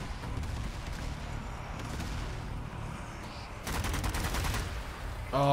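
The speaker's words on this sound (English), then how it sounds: "Artillery strike everywhere" Artillery strikes in Zombie Army 4: Dead War land as a steady wash of rumbling blasts and crackling gunfire, with a denser burst of rapid impacts near the end, all in-game with no talk.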